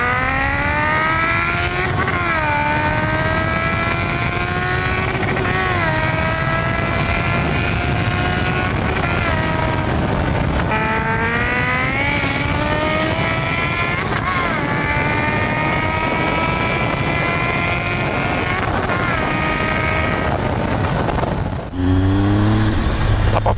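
A Triumph Tiger 800 motorcycle engine revs and accelerates in repeated rising pulls, loud and close throughout, with the pitch climbing through each gear before dropping off abruptly near the end.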